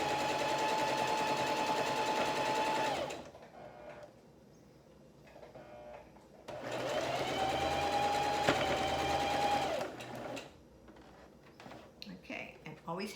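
An electric sewing machine stitching a quilt runs in two steady whirring bursts of a few seconds each with a quieter pause between, close and loud, its motor pitch holding even as it sews.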